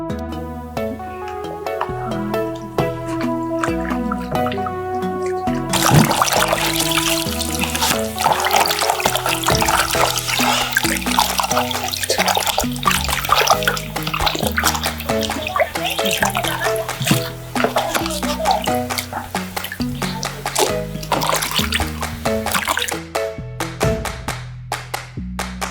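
Raw meat with its fat trimmed off being washed a second time in a basin of water, with steady splashing and sloshing close by, continuous and fairly loud.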